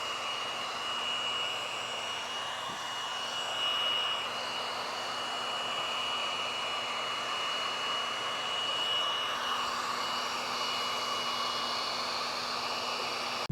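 A heating tool runs steadily over the spoiler area of a Lexus IS300, giving a continuous, even blowing roar that lasts throughout with no talk.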